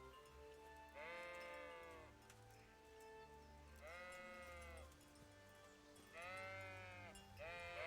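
Sheep in the Kingdom Come Deliverance video game bleat three times in long, wavering calls spaced a few seconds apart, over a steady low ambient hum.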